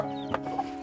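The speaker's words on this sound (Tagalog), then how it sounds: "may mga manok" Chickens cluck briefly nearby, a couple of short clucks over a low steady background hum.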